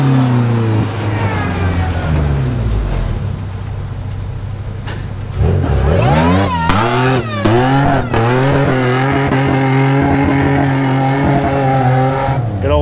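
A one-ton Toyota truck with a 5EZFE engine labors in the sand at Sand Hollow, the engine loud and close, droning low before revving up in repeated surges.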